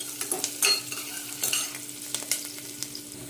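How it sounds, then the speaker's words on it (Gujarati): Sliced onion sautéing in a pan for veg soya pulao: a steady sizzle with the scrape of a spoon stirring now and then, close and continuous, with no voices. "સરખી રીતે એને સાંતળી લઈશું"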